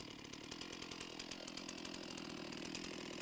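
A chainsaw cuts into wood with a steady, close, continuous roar of the engine and chain, unbroken for the whole stretch.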